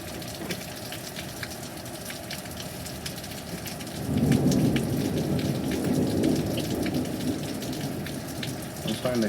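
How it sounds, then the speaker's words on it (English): Heavy thunderstorm with close lightning strikes and gusty winds: steady loud rain on surfaces, then from about four seconds a deep rolling rumble of thunder swells in and carries on under the downpour to the end. "Finally a good storm."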